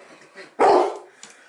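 A dog lets out one sharp, loud bark close by in a kebab-pizzeria, with quieter voices murmuring before and after.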